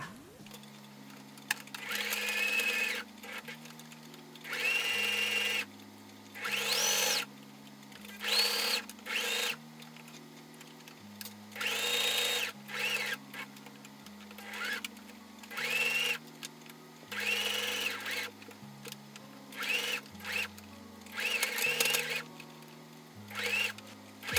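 A sewing machine stitches around a fabric jewelry organizer in repeated bursts of fast mechanical whirring, separated by short pauses, close and moderately loud.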